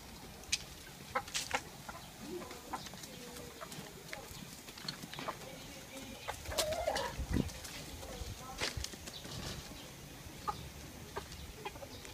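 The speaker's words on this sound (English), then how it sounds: "Chicken is everywhere." Chickens at a rural spot in La Union, Philippines, clucking and calling in short, scattered bursts, some near and some farther off, over a quiet background with occasional clip-clop-like knocks.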